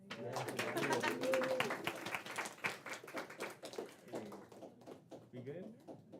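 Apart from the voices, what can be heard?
audience clapping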